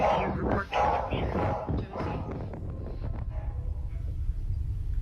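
A dog named Josie barks inside a house, the yips mixed with wind-like rumble and speech, loud over the first couple of seconds and then fading to a low background murmur.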